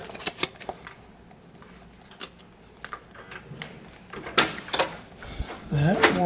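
Keys rattle and click in the lock of hotel room 225's door, a series of sharp metallic jingles and taps, followed by the latch clunking and the door creaking open, close by.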